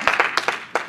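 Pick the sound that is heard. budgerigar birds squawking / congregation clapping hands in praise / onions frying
congregation clapping hands in praise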